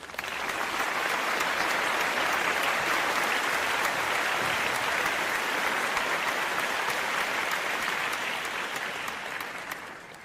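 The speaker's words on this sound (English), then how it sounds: "we should give her some much deserved applause for her work" Long, steady applause from an audience, many hands clapping at once in a thick, even wash that holds for about ten seconds before easing slightly at the end, with no voices over it.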